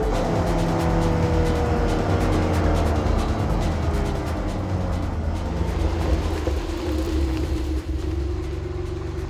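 A Noble M400 sports car engine rumbles steadily and loud, a continuous low drone with faint harmonic tones that hold throughout, with no voices.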